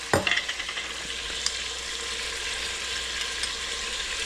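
Garlic browning in hot oil sizzles with a bright, steady hiss, opening with a few quick clatters of stirring before settling into an even, close fry.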